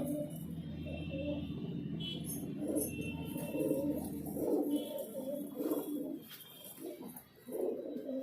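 Highflyer pigeons cooing softly in a loft, low throaty calls overlapping in a steady, quiet murmur with faint clinks and rustles.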